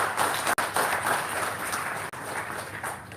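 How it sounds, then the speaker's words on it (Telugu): An audience at an RTI awareness programme claps together in a dense, steady burst lasting about three seconds, with two brief drops in the middle and no talk over it. "గట్టిగా ఒకసారి చప్పట్లు కొట్టండి."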